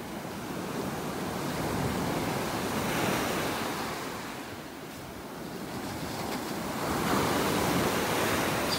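Waves rolling in on a North Naples, Florida beach, a dense steady roar of surf rising and falling in slow swells, close and loud with wind noise mixed in.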